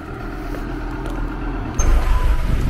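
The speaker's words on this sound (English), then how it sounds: "Sorry about that, there's a lorry" A lorry rumbles past on a village road in St Nicholas at Wade, Kent, a steady close engine and tyre roar that swells louder near the end, with no talking.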